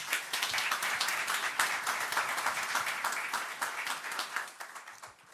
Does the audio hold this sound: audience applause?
yes